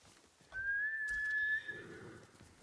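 A horse whinnies in the video game Ghost of Tsushima, one clear drawn-out call lasting about a second, fairly faint against a quiet game background.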